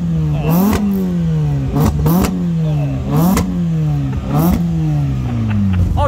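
K20-powered Peugeot 306 track car at a summer action day, its engine blipped repeatedly: several quick, loud revs rising and falling over a rough idle, close by.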